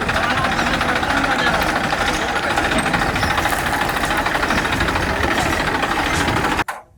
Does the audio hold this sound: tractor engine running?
yes